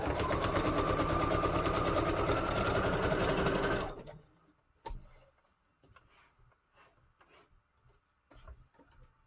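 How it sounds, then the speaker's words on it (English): A sewing machine runs a regular zigzag stitch on its default setting, a loud, fast, even mechanical whirring for about four seconds before stopping, followed by faint clicks and handling noises. "Here I'm just going to sew just a regular zigzag stitch on its regular default setting."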